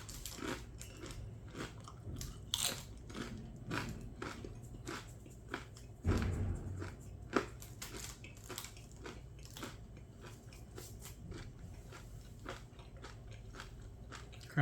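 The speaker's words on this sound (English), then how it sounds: "It was a little spicy while I was chewing it" Someone chews a Paqui One Chip Challenge chip up close, with repeated crisp crunches and bites in an uneven rhythm over a quiet room and a brief louder bump midway. The sound is faint overall and there is no talking.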